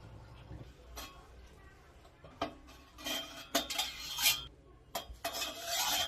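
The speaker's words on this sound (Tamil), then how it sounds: "இப்போ நம்ம இந்த வாழைப்பழத்தை எடுத்து சின்ன சின்ன பீஸா கட் பண்ணிக்கலாம்" A knife cuts a banana into small pieces for a homemade sarjah milkshake, making soft scraping and tapping knocks on a board at an uneven pace, close by, with a little background speech.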